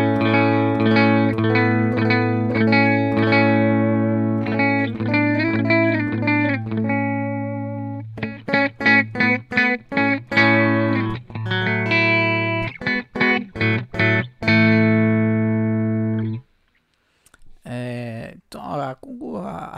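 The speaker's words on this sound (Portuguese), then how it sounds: "esse é o som clean desse amplificador sem esses pedais ligados" Clean electric guitar through an Amplitube 5 amp simulation with pedals, reverb and delay switched off: sustained strummed chords and picked notes ring loud and steady for about sixteen seconds, then a few quieter plucked notes.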